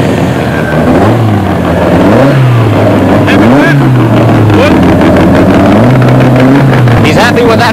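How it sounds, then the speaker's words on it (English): A BDA 2-litre Ford Escort rally car revs and accelerates hard on a forest rallysprint run, its engine note repeatedly rising and falling through gear changes, loud and close, with a commentator talking over it. "Tony Teasdale from Auckland in the BDA 2-litre Escort."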